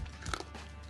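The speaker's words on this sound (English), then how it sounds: "Crunch." A single crisp crunch as someone bites into caramelized pork belly with vegetables, close and brief, over a low steady background hum.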